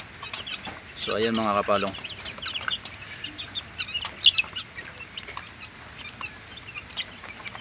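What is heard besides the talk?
hen and chicks clucking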